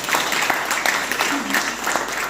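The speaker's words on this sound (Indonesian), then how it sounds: "Berikan tepuk tangan, haleluya." A church congregation at a Christmas service applauds, a dense, loud, steady wash of clapping throughout.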